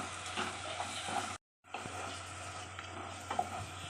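Green masala paste sautés with tomato in a pan for a quick prawn rice, hissing softly with light stirring scrapes. A brief silent break splits the frying sound, which then resumes.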